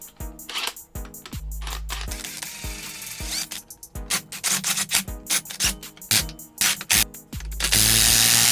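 Mechanical ratcheting and rubbing from compressing the front shock spring on a 2005-2008 B7 Audi A4, a close run of repeated clicks and scraping strokes with short pauses between them and no talking.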